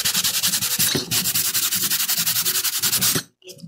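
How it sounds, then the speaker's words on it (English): Sandpaper scrubbed hard back and forth over a rough painted underpainting surface, loud rhythmic rasping strokes in steady succession, then a brief pause and one more stroke. "I mean, I'm not lightly sanding it. There's force behind it."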